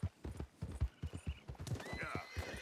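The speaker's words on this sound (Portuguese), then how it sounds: "Cadê o meu cavalo?" Rhythmic hoof clip-clops of a horse trotting in Red Dead Redemption 2, followed by a loud whinnying neigh near the end, fairly close and clear.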